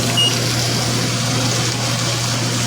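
A microwave oven runs while cooking bacon, giving a loud, steady electrical hum and whir throughout, with no voices.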